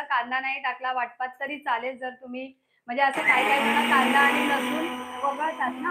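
A kitchen mixer grinder churns out a loud, steady whirring roar that starts after a few seconds of speech and keeps running, with someone talking over it the whole time.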